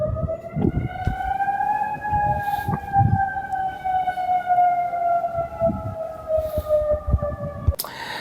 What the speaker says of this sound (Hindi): सायरन ही सायरन सुनाई देंगे।